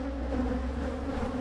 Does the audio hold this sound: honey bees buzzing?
yes